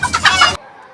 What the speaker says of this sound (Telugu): అవైతే కోళ్ళు అయితే మా వాళ్ళని చూసి అయితే భయపడైతే పారిపోతున్నాయి